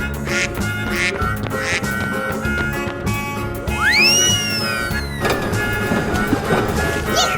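A cartoonish duck quack sound effect rings out over bright, busy background music in an animal-guessing escape room game, a single squawk with a rising-then-falling pitch.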